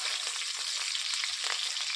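Chopped green chilies fry in hot oil with five-spice, a dense, bright crackling sizzle that stays steady and close for a couple of seconds.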